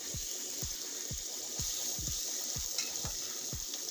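Butter melts and sizzles in a pan while making croque monsieur, giving a steady soft hiss with regular low knocks about twice a second, with no voices.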